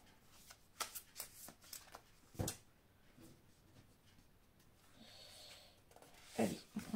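Oracle cards shuffled and drawn during a tarot-style reading, a run of crisp riffling flicks and slaps close up, then a quieter slide and a final brisk burst of card handling, no talk over it.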